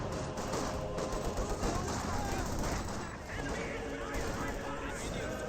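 Maxim machine gun firing in Company of Heroes 2 at Grenadiers, a dense, continuous rattle of bursts in a busy battle mix, steady and fairly loud, with commentary speech faintly running underneath.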